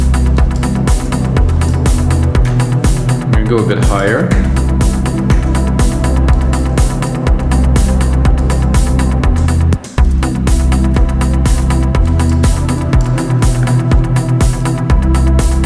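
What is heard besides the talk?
Anjuna-style synth pad played on Sylenth synthesizer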